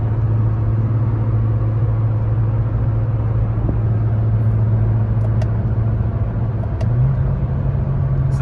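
A Nissan GT-R with a flyby tune being test-driven after a full shop inspection, a steady low engine drone at cruising speed heard from inside, with a slight pitch rise near the end.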